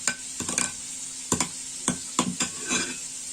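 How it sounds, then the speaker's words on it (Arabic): Chicken in sauce being stirred in a pan, a series of close, distinct scraping strokes of the spoon against the pan over a soft steady sizzle, roughly five or six stirs in an irregular rhythm. "نحركو الصلصه ديالنا هكذا الدجاج، ونحركوها حتى التقديم ان شاء الله"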